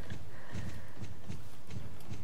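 Virtual Arabian horses at a horse market in the game Star Stable clip-clop in a steady rhythm of hoofbeats, close and moderately loud over a low background hum.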